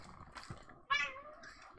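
A kitten lets out one clear, drawn-out meow close up, preceded by faint background noise and a brief soft sound.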